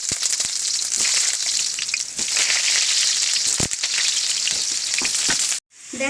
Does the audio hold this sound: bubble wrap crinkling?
no